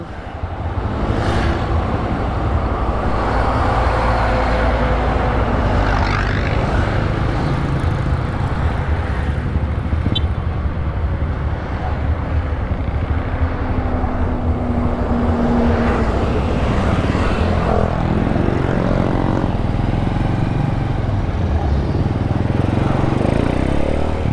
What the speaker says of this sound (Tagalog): ang dami pang sasakyan